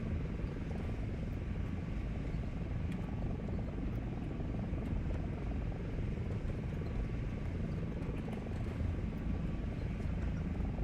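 An AH-56 Cheyenne helicopter flying in War Thunder VR gives a dense, unbroken rotor-and-engine drone at steady loudness throughout, with no talking.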